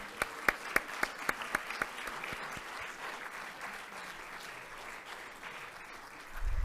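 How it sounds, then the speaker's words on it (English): Applause from an audience at a spring convocation and professional development day. A few sharp, distinct claps open it, then it swells into a dense, steady round that fades toward the end. "How about another big round of applause for our"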